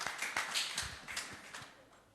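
Soft, steady rhythmic clapping from a church congregation at a Sunday service, faint and somewhat distant, the claps falling in an even beat for about two seconds.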